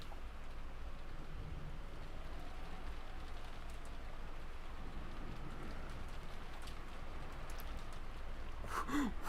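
Steady rain falls in the Umineko visual novel, a soft constant hiss of drops on surfaces at low level, with a brief faint sound near the very end.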